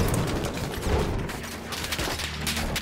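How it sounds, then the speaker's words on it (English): Dense gunfire in the World War I shooter Battlefield 1, a continuous chaotic barrage of overlapping rifle and machine-gun shots with distant booms, loud and unbroken across the whole moment. "there is a lot of shooting"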